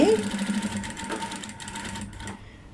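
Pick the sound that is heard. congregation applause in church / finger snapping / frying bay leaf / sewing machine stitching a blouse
sewing machine stitching a blouse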